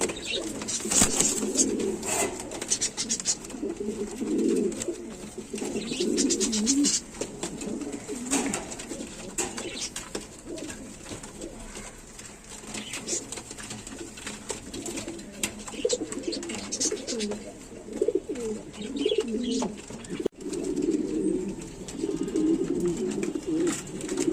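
A breeding pair of pigeons, a male and female offered for sale, coo steadily at close range with repeated low throaty calls, no talk over them.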